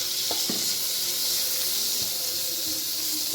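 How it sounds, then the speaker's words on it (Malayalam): Chopped tomato roasting beside small shallots in a pan for prawn roast, a dense continuous sizzle and hiss with a few light utensil taps early on, close and fairly loud. "ഇതൊന്ന് നന്നായിട്ട് വഴറ്റാം"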